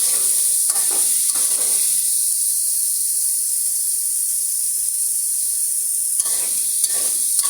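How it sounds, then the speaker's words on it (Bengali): Chopped, pre-boiled carrot hisses steadily in a hot pan for homemade noodles, with a spatula scraping and stirring near the start and again near the end, and a constant sizzle between. "এবার এতে আমি দিয়ে দিব গাজর কুচি"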